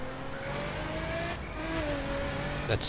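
A car in The Crew racing game drives with a droning engine whose pitch rises and falls, then a brief tire squeal and a thump near the end.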